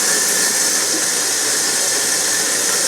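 A newly installed kitchen sink garbage disposal runs with a steady, smooth whirring hiss, close and continuous, with no voices.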